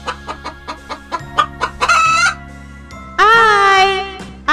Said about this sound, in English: H for hen. Hen means murgi.